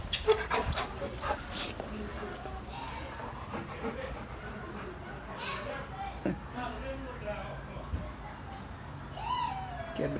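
A dog pants and lets out high whimpers and yelps, with scattered voices and shuffling in the background.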